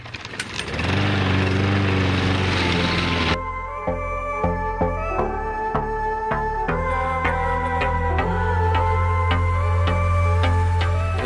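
A steady engine drone of a lawn mower running close by, loud and continuous, with a rougher, noisier start before settling into an even hum.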